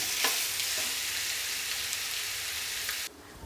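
Chicken sizzles and crackles steadily as it is stirred in a hot pan, loud broadband frying with a few faint scraping strokes, cutting off abruptly near the end; no one speaks.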